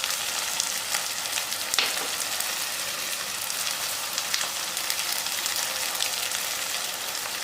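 Curry with sliced vegetables frying in a pan on a home stove, giving a steady, moderate sizzle with faint crackles throughout and no voices.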